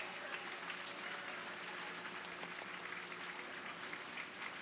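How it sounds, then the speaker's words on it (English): Steady, sustained applause from an audience honoring volunteers at the 2023 Power of Purple event for Mothers Helping Mothers, a dense even clatter of many hands from start to finish. "How about a round of applause for all of our volunteers?"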